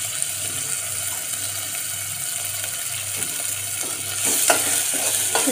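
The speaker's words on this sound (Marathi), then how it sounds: "आता टमाटर टाकून घेऊया आपण। टमाटर आणि मीठ," Tomatoes and salt stirred into onions frying in a pan: steady loud sizzling with a spoon scraping and stirring through the mix, the sizzle swelling briefly near the end.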